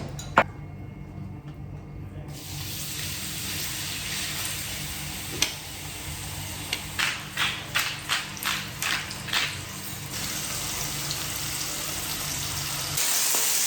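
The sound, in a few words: food sizzling in a pan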